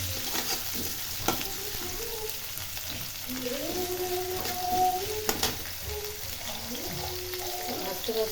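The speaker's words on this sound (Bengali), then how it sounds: "পেস্টটা দিয়ে দিলাম পেস্টটা হালকা করে একটু ভেজে নেব বেশি ভাজবো না" Spice paste for biryani frying lightly in oil in a pot: a soft, steady sizzle runs throughout, with a couple of sharp utensil clinks and faint melodic tones in the background.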